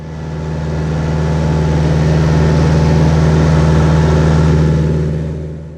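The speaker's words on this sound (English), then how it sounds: "Once in a while, I get to drive their little orange tractor." A small orange farm tractor engine runs steadily at close range, a loud, continuous low droning hum that holds even throughout with no voices.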